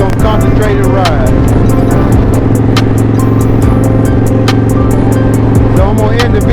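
A custom chopper motorcycle engine drones steadily and loudly while riding through curves, with a continuous low rumble and wind noise and no pauses throughout.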